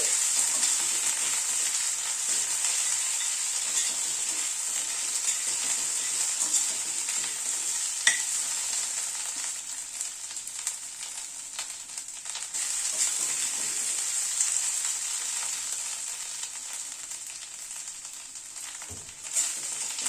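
Onion with ginger and green chili paste frying in a pan for a rohu fish curry, a continuous bright sizzle with occasional spatula scrapes and a soft clink near the end, no voices.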